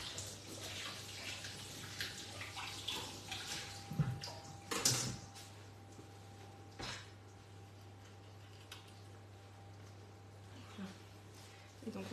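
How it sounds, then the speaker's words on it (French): Spoon rinsed under a running kitchen tap, a soft hiss of water with a few clinks of metal, faint and steady over a low background hum. "Je vais juste laver ma cuillère magique."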